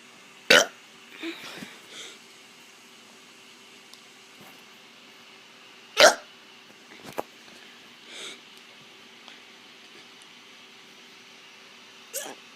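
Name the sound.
child burping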